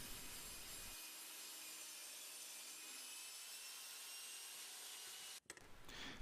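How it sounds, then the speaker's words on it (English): A handsaw cuts an 8-inch piece from a wooden 2x4 for a DIY magazine loader, making loud, steady rasping strokes that run continuously for several seconds before stopping abruptly near the end. "Cut an 8-inch piece from a 2x4 for both the magazine well and magazine well handle."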